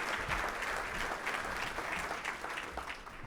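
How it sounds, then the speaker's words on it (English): Steady applause from an audience, a continuous wash of clapping without pause. "Let's give her a big round of applause."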